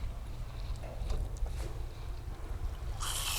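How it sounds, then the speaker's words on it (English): Water rinses a freshly gutted salmon outdoors, a soft close splashing and trickling over low background rumble, ending in a brighter rush of running water. "I'm going to give him a nice little rinse here."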